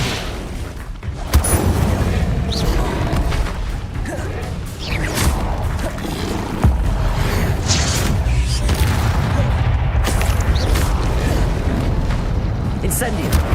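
The Incendio fire spell in Hogwarts Legacy bursts out in repeated loud, booming whooshes and crashes, layered thickly with continuous roaring spell effects and a voice.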